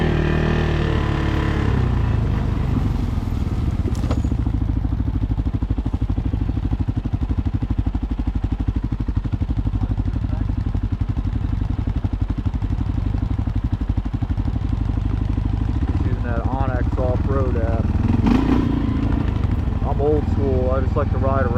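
2025 CFmoto CForce 600 ATV fitted with an RNG clutch kit rumbling along trails, a loud continuous low engine drone over the whole ride with someone talking over it.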